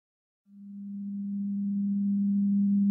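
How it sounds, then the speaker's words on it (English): A pure low 200 Hz monaural sine tone starts after a brief silence and holds steady, gradually swelling slightly louder until the end. "What you're hearing is a monaural sine wave at 200 Hz."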